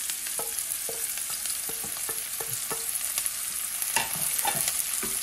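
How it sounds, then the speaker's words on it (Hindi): Garlic browning and onion frying in a pan for palak paneer make a continuous sizzle, punctuated by a dozen or so sharp spatula scrapes and taps at an uneven rhythm, close up with no voices. "अब मैंने इसके अंदर ब्राउन करना है लहसुन। इसके अंदर मैंने प्याज मिला दिए।"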